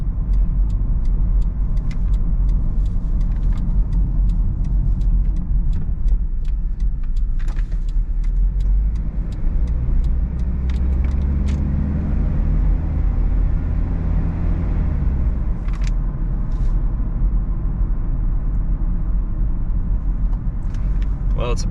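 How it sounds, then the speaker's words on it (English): A 1990s Toyota Estima (Previa) Aeras van cruising on the road, heard as a constant loud low rumble of engine and road noise from inside the cabin, with light ticks and rattles over it. "it's a beautiful day to take a cruise in this beautiful van"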